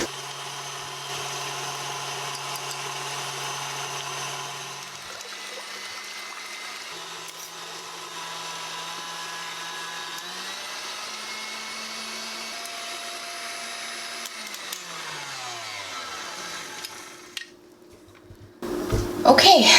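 An electric mixer whips egg whites for keto vanilla bean ice cream, a steady motor whir whose pitch shifts up in a few steps before it slows and stops, with a voice speaking at the end.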